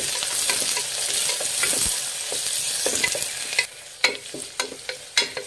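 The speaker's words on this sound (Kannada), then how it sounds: "ಈರುಳ್ಳಿ ಒಂದು ಸ್ವಲ್ಪ ಫ್ರೈ ಮಾಡಿ" Chopped onions fry in a pan for a Kannada-style lima bean usli, giving a steady close sizzle with scraping stirs and a few sharp clicks of a spoon against the pan toward the end.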